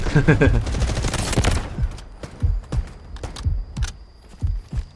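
Rapid automatic gunfire in the shooter Delta Force, starting as a loud dense burst and then breaking into scattered single shots and short volleys, with heavy low thumps throughout.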